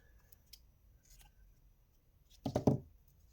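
Scissors snip through crochet yarn after a stem is finished on a pumpkin, giving one close, crisp cut of two or three quick clicks that follows a few faint handling noises.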